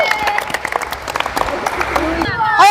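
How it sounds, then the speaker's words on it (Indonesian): Scattered clapping from a group of players at a ball-game training session, mixed with talking voices and a brief whistle-like chirp toward the end. "Oke, tepuk tangan dulu, tepuk tangan."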